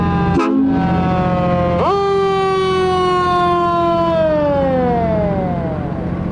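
A fire engine siren wails loudly and close by during a nighttime Christmas parade of lights, with Niagara Hose Company number 1 passing; a short whoop is followed by a long, steady tone that slowly falls in pitch.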